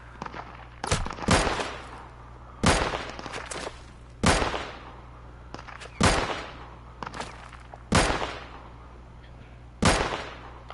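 Sharp video game gunshots ring out alone in a steady rhythm, seven or eight loud single cracks spaced about a second or more apart, each with a short decaying tail over a low steady hum.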